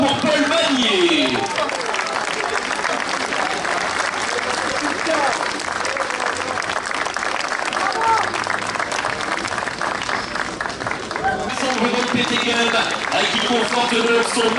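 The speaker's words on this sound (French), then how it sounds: "Et vos applaudissements une nouvelle fois pour Paul Magnier." Crowd applause at the podium ceremony of stage 2 of the Étoile de Bessèges cycling race in Marguerittes, steady dense clapping and cheering lasting throughout, with a PA announcer's voice speaking over it.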